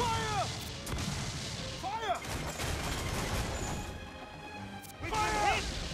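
Ship cannons booming in Assassin's Creed Freedom Cry, heavy blasts with crashing impacts and whooshing shots, spread through a loud naval battle with shouted crew orders throughout.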